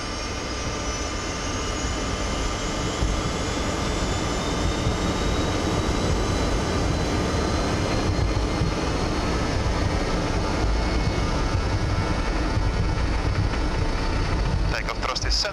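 BAe 146-300 airliner jet engines spooling up to takeoff thrust on a flight to London Stansted, a loud steady roar with a rising whine filling the cabin throughout, brief cockpit voices over it.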